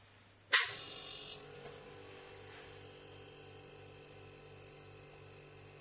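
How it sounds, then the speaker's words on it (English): A refrigeration compressor starting on a test run after sitting idle for weeks: a sharp, loud jolt at startup, then a steady mechanical hum with a low pulsing drone that carries on evenly. "We'll test run of the compressor."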